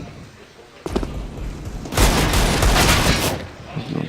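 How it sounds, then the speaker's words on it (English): Wall-bang gunfire in a professional CS:GO match at A main, a burst of rapid shots and booms from about two seconds in, with a single shot earlier, under the hum of the game. "Desperate wall bangs at A main, but Apex pushing up does find Stewie."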